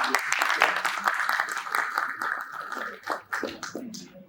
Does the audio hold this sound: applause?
yes